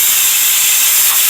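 A pressure cooker on the stove, cooking lentils for paruppu rasam, vents steam in a loud, steady, close hiss that fills the whole moment without pause.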